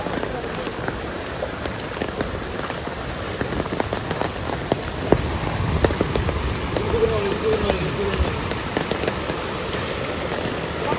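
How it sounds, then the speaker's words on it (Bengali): Heavy rain falls on a pond, a steady, dense patter of drops striking the water, with scattered louder splashes at moderate loudness throughout. "প্রচণ্ড বৃষ্টি হয়েছে, প্রচণ্ড।"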